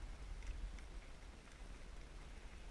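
Water runs out of an opened water line valve as a faint, steady hiss and patter, continuous and somewhat distant, with no voices.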